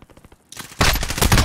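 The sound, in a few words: gunshots in a video game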